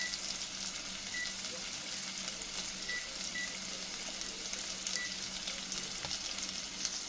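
Sausage links and other breakfast fixings frying on a stove top, a steady loud sizzle crackling throughout with faint clinks of cooking and a few soft beeps.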